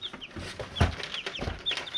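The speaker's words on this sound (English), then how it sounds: "Okay, don't run away, chickens." Chickens cluck and chirp in short, irregular bursts at close range, with soft rustling and handling noises between calls as the birds are gathered up.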